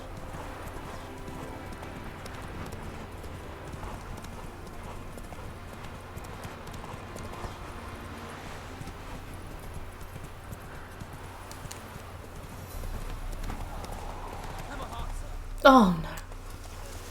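Horse hooves clip-clop steadily through a scene in The Witcher 3: Wild Hunt, with a voice briefly speaking and a short whinny-like cry near the end.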